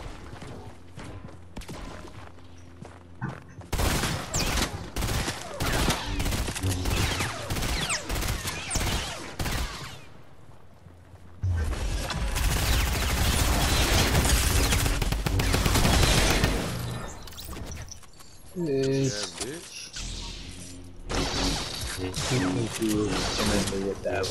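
Laser blasts sound in rapid, dense bursts of shots during a Star Wars video game, loud and continuous for long stretches, with talking voices mixed in.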